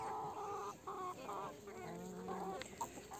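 Hens of several breeds, among them Ameraucana, Brahma and Columbia, cluck and murmur in a low, busy chorus at moderate distance, with short repeated calls rising now and then.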